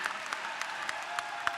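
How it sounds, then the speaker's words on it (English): Convention delegates clapping at a national party convention, a steady wash of applause from a large hall crowd with sharper individual claps popping out at a regular rhythm, sustained throughout without speech. "I couldn't hear the last part over the clapping"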